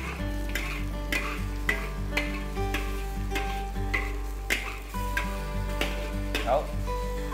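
Pork tail stir-fries in hot oil, a steady loud sizzle punctuated by rhythmic spatula knocks and scrapes against the pan about every half second, under a low continuous hum.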